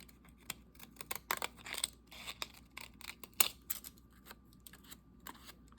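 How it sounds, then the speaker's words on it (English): Scissors snipping paper ephemera for fall crafting, a series of short crisp cuts at close range in an otherwise quiet room with no talking. "And some of these times these scissors eat this stuff up."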